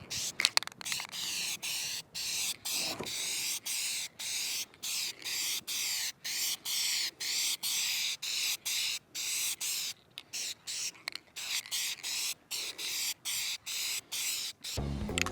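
Spray paint hissing in short, rapid repeated bursts as a second coat goes onto a vinyl car dash from a 1966 Ford Country Sedan wagon, close and steady throughout.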